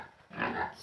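A white pig at a farm gives a single short, close grunt after a brief quiet moment, followed by a sharp click at the very end.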